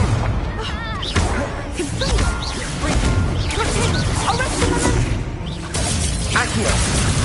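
Incendio fire spell effects from Hogwarts Legacy burst out amid a dense, loud layer of game sounds, with crashes and whooshes running throughout and a voice speaking over them.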